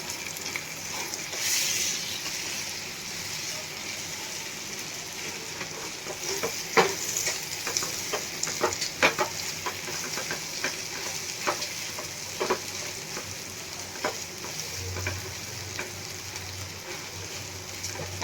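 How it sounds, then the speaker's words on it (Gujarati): A spoon stirs red chili powder and sambar masala into a sizzling potato filling for masala dosa, with a steady frying hiss under repeated scraping and tapping strokes against the pan. "लाल मरचुं एड करशुं 1/2 चमची जेटली ने 1 चमची आपणे सांभार मसालो एड करशुं। बधुं एकदम सरस मिक्स करी लेशुं आपणे।"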